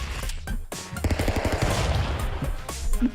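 Rapid gunfire from the video game Stick Fight: The Game, dense bursts of shots and explosive cracks stacking up loud and close over about three seconds, with no talking.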